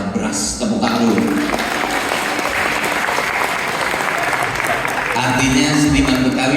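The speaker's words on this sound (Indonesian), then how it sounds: "Tepuk tangan dulu." A crowd at a Jakarta awards event breaks into sustained applause after Betawi music, dense clapping filling the room, with voices rising over it near the end.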